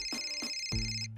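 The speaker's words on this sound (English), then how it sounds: "Phone is calling!" A phone rings in the Ice Scream 7 mod video game, a short electronic ring with steady high tones followed by a lower buzzing tone, loud and alone with no talk.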